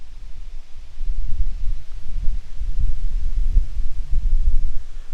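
Wind gusting through the forest of the Iroquois National Wildlife Refuge, a low rumbling roar buffeting the microphone that builds and stays loud throughout with no talking.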